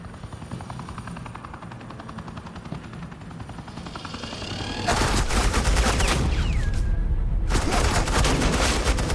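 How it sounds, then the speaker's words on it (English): Suppressing gunfire erupts in Batman: The Enemy Within, a dense, loud, continuous burst of rapid automatic shots over a droning helicopter rotor, briefly pausing before resuming. "suppressing fire"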